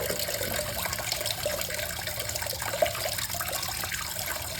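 Water pours and gurgles steadily from a toilet tank into a bucket, a continuous rushing drain with no pause or voices, close by.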